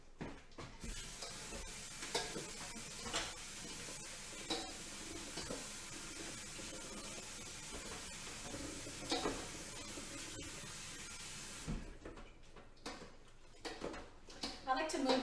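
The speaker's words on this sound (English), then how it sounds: "I like to move them around in the colander, just using my hand and the large spoon here, just to kind of help everything strain away" Rinsed zucchini pieces being stirred with a large spoon and a hand in a colander, giving a soft, wet, continuous clatter and rustle, with water hissing as it drains away. It sounds moderately close and steady.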